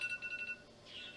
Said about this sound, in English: So that's the timer.